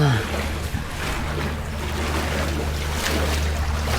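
Floodwater surges through the streets of Legian, Bali, as a loud, constant rushing wash with a deep low rumble and no pauses.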